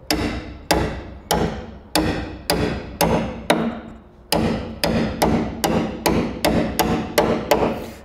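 A hammer drives a chisel through the welds of a rusty sill on a Holden Torana GTR XU1 LJ classic car, fourteen sharp metallic blows in a fairly regular rhythm with one short pause, close and loud.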